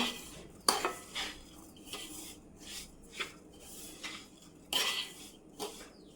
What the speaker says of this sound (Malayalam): പാനിൽ വെച്ച് സ്റ്റൗ ഓൺ ചെയ്ത് വെച്ചിരിക്കുകയാണ് ഇളക്കി കൊടുത്തുകൊണ്ടിരിക്കണം